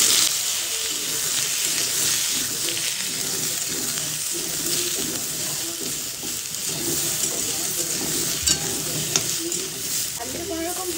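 Cut potatoes fry in white oil with curry leaves, giving a close, steady sizzle that runs the whole time, with occasional sharp clicks of stirring.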